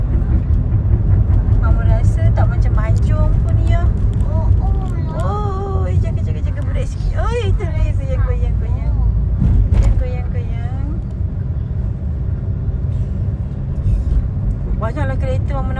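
Busy city road traffic in Ipoh during the Hari Raya holiday, a steady roar of many cars passing close by, with people talking throughout over the continuous engine and tyre noise.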